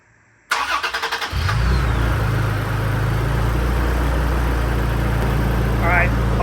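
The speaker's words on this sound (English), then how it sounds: "Start the truck." A truck engine cranks with a rapid series of starter pulses, catches, and settles into a loud, steady idle that runs on continuously close by.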